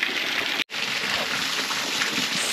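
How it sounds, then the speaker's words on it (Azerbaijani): Mountain spring water running down between rocks, a steady, loud broadband rush of flowing water close by, continuous apart from a brief dropout. "Su tam dağın yuxarısından gəlir. Bax, qayaların arasından axır."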